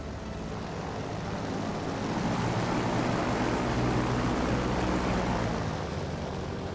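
An airplane takes off down a runway: a steady, loud engine roar that swells slightly in the middle and holds without a break, with no voices.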